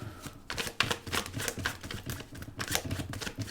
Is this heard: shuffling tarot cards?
yes